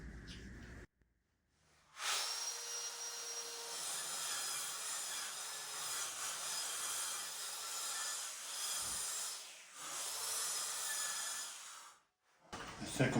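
A power saw cuts through wooden wall studs during a bathroom entry renovation, a loud sustained whining buzz running about ten seconds with a short dip midway, framed by near silence before and after.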